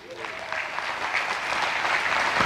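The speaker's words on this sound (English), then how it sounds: "Let's give God an applause for that." A church congregation applauds during a sermon, a full, sustained round of clapping that stays loud and even throughout.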